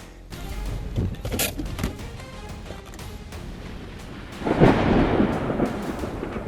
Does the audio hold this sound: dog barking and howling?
no